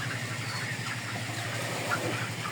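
Layer pullet chickens, about 3000 birds aged 65 days, in a poultry shed, giving a steady low murmur of massed clucking and shed noise, continuous and fairly faint with no distinct single calls.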